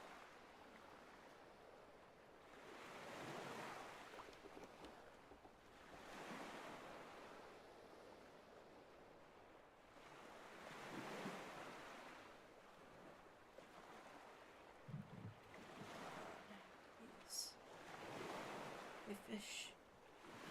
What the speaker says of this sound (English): Nice calming wave, white noise